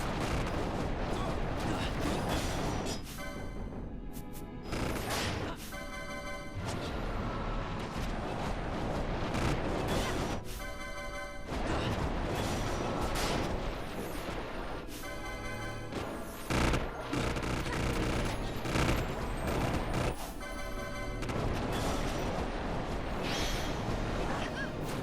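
Final Fantasy XII fire spell effects roar and burst repeatedly, a series of loud crackling blasts spaced every few seconds over a steady rumbling battle backdrop, with occasional voices underneath.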